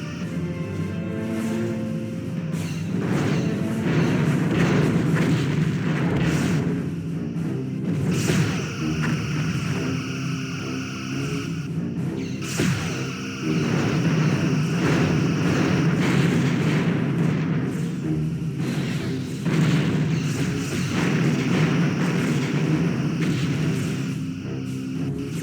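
Star Trek Bridge Commander space battle, a Berlin class against Sona warships: repeated photon torpedo launches and booming explosions rise over a constant rumbling engine and combat bed.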